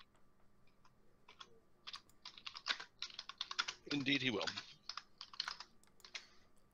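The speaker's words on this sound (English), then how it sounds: "Dude, who's typing?" Rapid clicking of computer keyboard keys spreads across most of the stretch, close and clearly audible, while someone speaks briefly in the middle.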